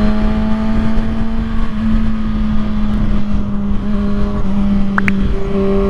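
A 2022 Kawasaki ZX6R 636 supersport motorcycle riding along, its steady engine drone holding a constant low hum under heavy, continuous wind rush, with no speech.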